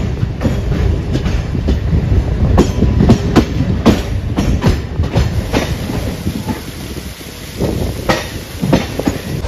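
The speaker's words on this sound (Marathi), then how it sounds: "हे बघा लगेच 1 मिनिटाचा हॉल्ट घेत ट्रेन रवाना." A Konkan Railway Diva-Khed-Chiplun MEMU train pulling away after a one-minute halt during the Ganpati festival, with loud, steady wheel rumble and rhythmic clickety-clack continuing close by throughout.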